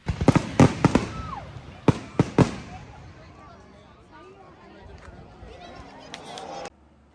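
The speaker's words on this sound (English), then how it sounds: "we managed to only get a glimpse of the fireworks towards the very end" Fireworks go off at a Dashera celebration, a few sharp bangs and crackling bursts early, then quieter distant pops with brief voices mixed in.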